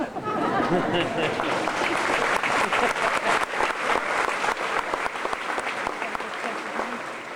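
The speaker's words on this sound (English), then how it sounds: "you're welcome to applaud after everything I say if you feel the need to do so" Applause from the audience at an 8th grade graduation ceremony, a full, steady wash of many hands clapping that swells early and then slowly thins, with some crowd murmur underneath.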